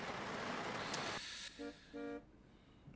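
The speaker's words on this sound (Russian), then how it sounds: "Так, там нам сзади сигналят." Two short car horn honks in Euro Truck Simulator 2, the second slightly longer, sound over a steady hiss of rain or engine noise that drops away partway through.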